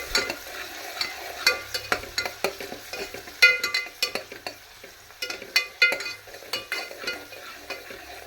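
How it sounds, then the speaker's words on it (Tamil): Small onions frying in a pan, a soft sizzle broken by frequent sharp scrapes and clinks of stirring, close and alone. "சின்ன வெங்காயம் போட்டு நல்லா கொஞ்சம் செவக்க விடுவோம்"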